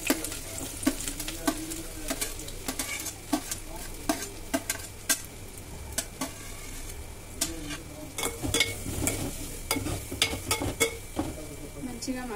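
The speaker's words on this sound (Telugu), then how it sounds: "ఆయిల్ హీట్ అయినాక ఉల్లిపాయలు, పచ్చిమిరపకాయలు ముందు వేసేసుకున్నాము." Sliced onions and green chillies frying in hot oil for tomato pulusu, a constant sizzle broken by frequent spatula taps and scrapes on the pan, close and moderately loud with no speech.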